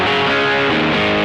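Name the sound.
guitar through pushed distortion pedal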